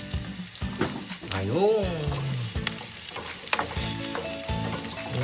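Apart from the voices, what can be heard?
chili sizzling as it is added to the frying pan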